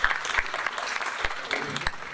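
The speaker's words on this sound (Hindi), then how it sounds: "तालियां बजाइए सर के लिए" Audience applause at a talk on happy and healthy living, a brief burst of clapping from a crowd with some voices mixed in.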